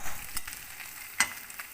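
Dried bamboo shoot frying with magur fish in a karai over a low flame, a soft continuous sizzle broken by a few sharp crackles and stirring scrapes, close and alone.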